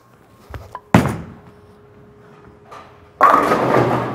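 A Purple Hammer urethane bowling ball strikes the pins with a sharp crash followed by a sustained clatter, after an earlier thud from the lane and quieter rolling in between, loud and close at a bowling alley.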